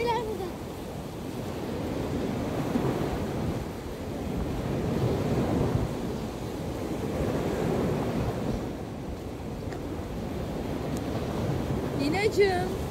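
Sea waves break and wash onto a beach in steady, rolling surges of surf, with wind buffeting the microphone throughout and faint voices underneath.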